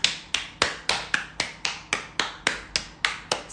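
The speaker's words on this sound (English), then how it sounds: "rub your hands and to prepare, and let's clap your hands" A single person claps hands at a slow, steady pace, about a dozen sharp, close claps spaced roughly evenly, each ringing out briefly in a quiet room during a live-streamed movement session.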